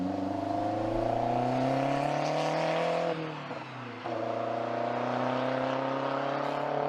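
1980s British Lotus Esprit turbocharged supercar engine, a steady droning hum that dips briefly midway as if shifting gear before resuming, continuous and fairly loud with no talk.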